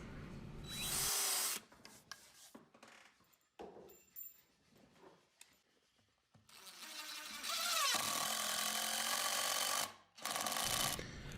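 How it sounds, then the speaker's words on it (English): A power drill drives screws into a homemade 20-inch wooden disc sander for a lathe, loud whirring bursts at the start and again near the end, with quieter handling noises between. "that's where I'm going to put screws in"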